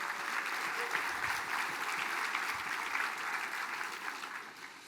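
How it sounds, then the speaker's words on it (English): An audience applauds steadily and evenly throughout, a dense wash of many hands clapping at moderate distance, with no one speaking over it. "one more round of applause for them, please"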